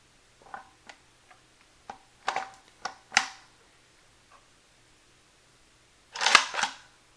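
An AC Unity magazine is fitted into a rifle: a string of light, close clicks and taps builds to a louder metallic rattle and snap near the end.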